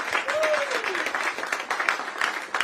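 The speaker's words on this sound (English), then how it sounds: "Let's give Mary another round of applause for making this happen." Audience applause for Mary at an Andrew Yang Q&A event in southeast Iowa, a steady wash of clapping from a crowd with a brief voice rising through it.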